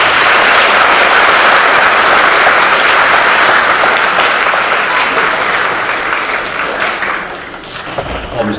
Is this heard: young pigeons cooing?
no